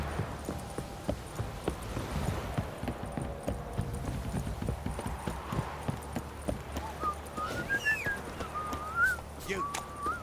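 Horse hooves clip-clop steadily through a stretch of The Witcher 3 gameplay, a continuous rhythmic trotting at moderate level, with a few whistle-like tones and a faint whinny-like call near the end.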